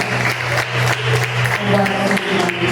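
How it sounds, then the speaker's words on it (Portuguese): A large church congregation claps steadily and continuously during worship, with a low hum and droning tones running underneath the applause. "Você pode aplaudir novamente a Jesus, aleluia"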